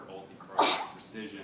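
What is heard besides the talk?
sneeze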